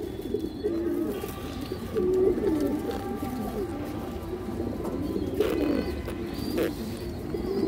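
Pigeons coo continuously in soft, throaty, rolling calls, several overlapping close by against a faint background.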